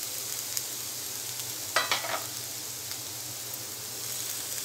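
Grated cabbage and carrot fry in oil with a steady, hissing sizzle throughout, broken by a brief burst of stirring scrapes near the middle.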